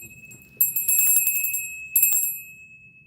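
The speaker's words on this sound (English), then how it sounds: "we're gonna ring the bell" A small bell rung twice during a relaxation routine, each strike giving a bright, high ringing tone that lingers and fades, with no talking.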